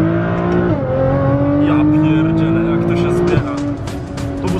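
A Nissan GT-R accelerates on snow, its engine revving hard and loud in long rising pulls with a gear shift midway and tire noise, while people talk over it.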